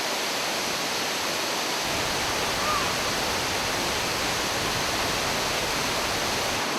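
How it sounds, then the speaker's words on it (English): Bride's Veil waterfall in the Amazon, a steady, loud broadband rush of falling water that stays constant and fills the whole clip with no other sounds. "or bathe in waterfalls such as this one, known as the Bride's Veil."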